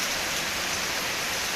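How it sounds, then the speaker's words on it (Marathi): Heavy rain falling over open farmland, a dense unbroken hiss of pouring water, loud and even from start to finish. "आजही सकाळपासून चांगल्या प्रकारे हा पाऊस पडतोय."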